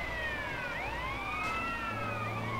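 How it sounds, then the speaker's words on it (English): Wailing police sirens in Grand Theft Auto: San Andreas sweep up and down in overlapping tones, loud and continuous, with a low engine-like hum joining underneath toward the end. "those sirens are fucking annoying"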